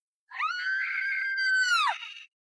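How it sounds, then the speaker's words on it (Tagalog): A single long, high-pitched scream of fright rises and holds for about two seconds before breaking off, loud and close with no other sound around it. "Bakit ka sumigaw?"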